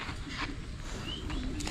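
Racing pigeons coo softly over a steady backdrop of low noise, with a few brief chirps and whistle-like calls rising near the end.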